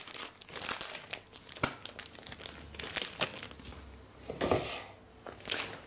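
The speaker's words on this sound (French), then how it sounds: "Vous fermez votre poche." A plastic piping bag filled with chocolate baba batter is twisted shut, giving close, dry crinkling and rustling in uneven bursts with a few sharper crackles, and no voices.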